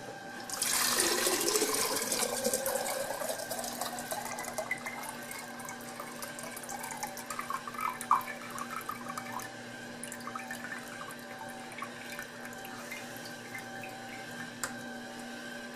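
A Ninja Slushi machine rinses water through itself during cleaning. A loud gush opens the sequence, then settles into quieter trickling and dripping over a low mechanical hum.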